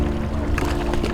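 A fishing boat running at wide open throttle on the Missouri River, a loud steady engine drone with hull and water rush slapping through it, close to the microphone.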